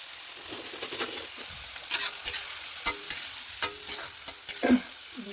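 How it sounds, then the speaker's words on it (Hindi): Cauliflower sizzles softly in a pan, with sharp scraping and clacking stir strokes at irregular intervals, close and fairly quiet. "गोभी को पसीने में थोड़ा सा फ्राई होने के लिए छोड़ दें, 1-2 मिनट।"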